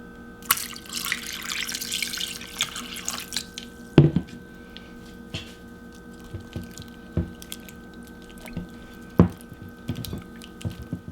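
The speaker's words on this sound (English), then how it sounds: "Okay, I'm gonna dump this in the sink" Water is dumped into a kitchen sink while homemade butter is washed: short splashes, drips and knocks at moderate loudness, with one louder splash and clatter at about four seconds, then scattered quieter drips and small impacts.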